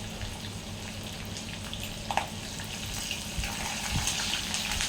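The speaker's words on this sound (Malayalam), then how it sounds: "പച്ചമുളകും ചേർത്ത് കൊടുത്തതിന് ശേഷം ഇതൊന്ന് ഇളക്കി കൊടുക്കാം." Garlic and chopped green chillies frying in oil for bitter gourd pickle, giving a soft, steady sizzle with faint stirring clinks and a brief scrape, fairly quiet throughout.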